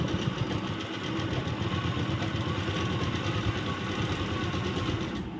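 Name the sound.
sewing machine stitching a nightie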